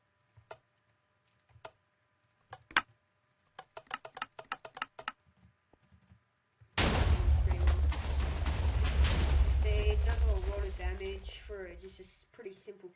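Minecraft TNT cannon firing a couple of blasts. Keyboard clicks tick along quietly, then a sudden loud explosive boom breaks into a dense, rumbling roar for several seconds, with a voice talking over it before it fades.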